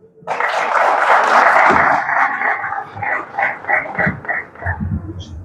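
An audience at a poetry festival in Afşin breaks into loud applause that starts suddenly, then settles into a more rhythmic, pulsing clap before tailing off, heard close and dominant.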